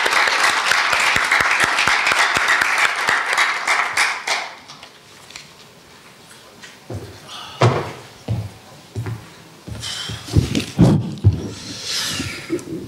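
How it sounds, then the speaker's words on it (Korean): Audience applause welcoming a speaker to the lectern at a university special lecture, dense clapping that fades out after about four seconds, followed by scattered knocks and bumps as the speaker settles in. "여러분 뜨거운 박수로 환영해 주십시오."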